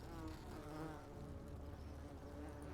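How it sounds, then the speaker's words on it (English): Bees buzzing in the video game The Forgotten City, a steady low droning hum that stays soft and constant throughout, with no other sounds over it. "Fucking bees"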